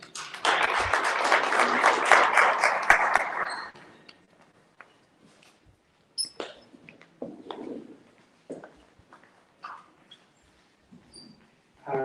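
Audience clapping at a youth model law session in Zimbabwe, a dense burst of applause for about four seconds that stops abruptly, followed by scattered small knocks and rustles in a quiet room.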